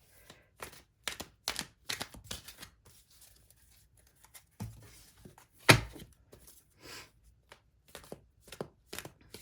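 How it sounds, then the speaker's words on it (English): A deck of tarot cards being shuffled, heard as irregular sharp riffles and taps at close range, with pauses between bursts and no voices. "I feel called to having to shuffle them up a little bit more."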